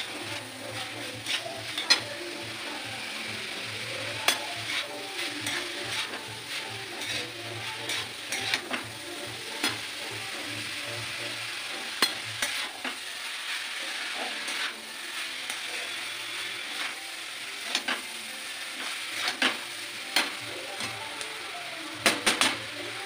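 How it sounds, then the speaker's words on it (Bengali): Veg chowmein noodles frying and being stirred in a pan, Kolkata street-food style, with a steady soft sizzle and frequent sharp scrapes and clacks of the utensil against the pan. "আমি আস্তে আস্তে নাড়াচাড়া করবো।"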